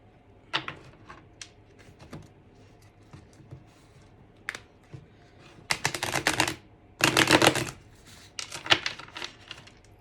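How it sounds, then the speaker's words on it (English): Tarot cards are shuffled in a few brisk, papery riffling bursts, close and fairly loud, separated by softer taps and handling noises in an otherwise quiet room. "Give a shuffle."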